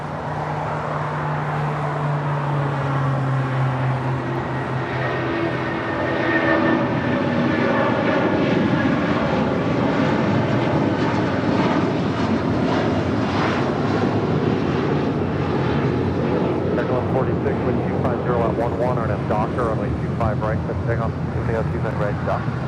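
A United Airlines Boeing 757-200 departs LAX for Boston, its engine roar building steadily and staying loud throughout, with a low rumble and a whining tone that shifts in pitch as it climbs away; a voice talks over it.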